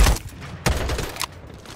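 Gunfire in the video game Farlight 84: a loud opening burst, a sharp crack partway through, then a short rattling spray that cuts off near the end.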